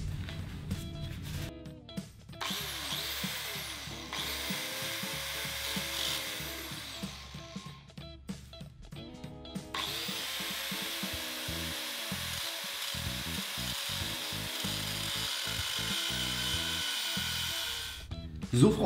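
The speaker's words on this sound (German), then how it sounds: "Dafür werden wir jetzt die Säge mal benutzen." Continuous back-and-forth sawing into a metal padlock, close and rhythmic, with brief pauses and strokes that speed up in the second half.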